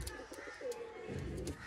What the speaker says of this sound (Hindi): देखो सियालकोटी अली वाले कबूतर दोस्तों प्योर हालत तुसी देख रहे हो